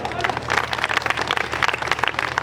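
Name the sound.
crowd applauding at a political rally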